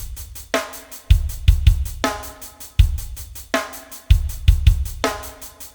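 A programmed drum beat built in Reason plays with every hit at the same velocity, giving a steady looping pattern of kick, snare and hi-hat that sounds loud, mechanical and evenly accented, with no voice over it.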